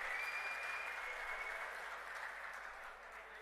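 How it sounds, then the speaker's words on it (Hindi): Dense, steady applause from a large crowd at an outdoor political rally in Kurukshetra, welcoming Punjab Chief Minister Bhagwant Mann. It sounds close and loud, fading slightly over a few seconds, with no voices over it. "जोरदार तालियां आपकी तरफ से आनी चाहिए"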